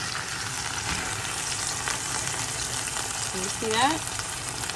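Neck bones frying in a pan after being flipped, a steady loud sizzle running throughout, with someone talking briefly over it near the end.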